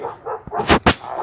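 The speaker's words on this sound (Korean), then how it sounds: "우리 강아지가 지금 열심히 짖고 있어서 죄송합니다." A small dog barks twice in quick succession, loud and close, after a short lead-in of softer yapping and indoor background noise.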